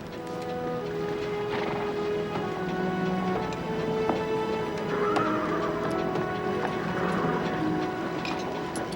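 Horses whinny and neigh repeatedly over a steady clatter of hooves as they are loaded aboard, with busy background activity throughout.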